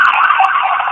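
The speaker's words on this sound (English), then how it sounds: "that's the ambulance right there" Ambulance siren wailing loud and close, a continuous tone with no other sounds.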